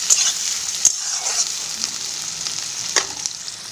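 Onions frying in a pan for a banana-blossom ghonto, a steady close sizzle with a few sharp spatters and stirring scrapes throughout, no talking.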